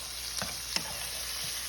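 Liver fries in a skillet with gravy, giving a steady, soft hiss broken by a couple of faint scraping taps from a utensil.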